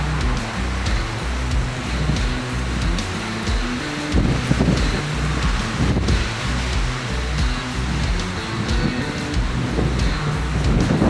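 Strong 45 mph sea wind at Yarmouth roars and buffets the microphone in heavy, continuous gusts, with a low rumbling blast that swells and dips without any speech.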